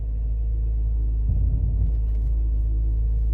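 A 2013 Cadillac CTS coupe with AWD idles steadily after a cold start with elevated RPM, a low continuous engine rumble with a brief swell of mechanical noise as it is shifted into reverse.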